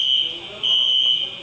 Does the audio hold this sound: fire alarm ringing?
yes